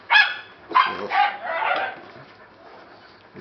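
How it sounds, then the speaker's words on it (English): Dogs barking in a few sharp, mid-distance bursts, with a short voice over them near the start. "you just hear the dogs barking at something there"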